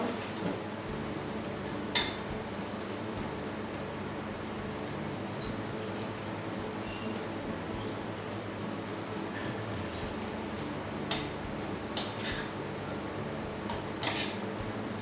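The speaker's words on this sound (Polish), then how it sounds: "mieszam" Heavy cream stirred in a pot with melting blue cheese, a quiet continuous scraping and swirling, with occasional sharp clinks of a utensil against the pot over a low background hum.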